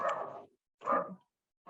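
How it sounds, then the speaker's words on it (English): Dogs bark somewhere in the background on an exhibition tour, giving two or three short, separate barks with brief silences between them. "apologies for the dogs at the back."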